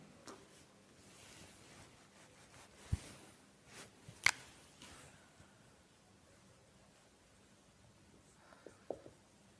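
A definition for indiscrete topology written out by hand, soft scratchy pen strokes with occasional louder taps and rustles, faint and intermittent.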